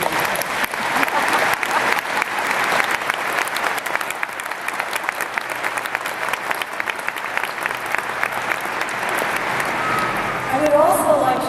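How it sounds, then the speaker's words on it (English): A commencement audience at a university graduation ceremony fills the space with continuous, even applause for over ten seconds, a broad wash of many hands clapping, with a voice starting again near the end. "We'd like to show our appreciation for your inspiring words with another round of applause."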